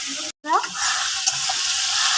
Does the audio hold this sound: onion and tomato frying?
yes